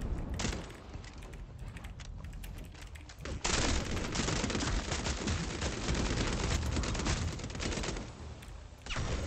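Rapid bursts of revolver gunfire in a first-person shooter, loud and dense, with shots clustering heavily around the midpoint and continuing in a steady barrage to the end.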